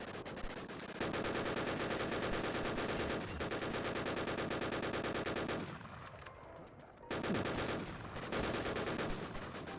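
Rapid bursts of gunfire from a new gun in a Lego-themed shooting video game, loud and dense for most of the stretch, with a short quieter gap before the firing resumes.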